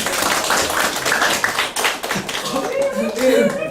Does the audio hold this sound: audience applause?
yes